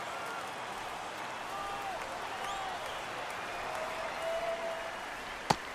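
A home crowd roars in the baseball video game MLB The Show 24, a steady wash of cheering and applause at even loudness, with a brief sharp click near the end.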